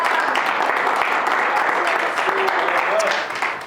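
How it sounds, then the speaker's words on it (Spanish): Applause from a church congregation during a Spanish-language sermon, a steady dense wash of clapping that fills the moment, with a few faint voices rising over it. "Dale aplausos."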